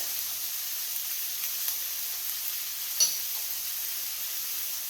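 Onions softening in a hot pan with salt, pepper and parsley, a faint, even sizzle with a single soft tick partway through.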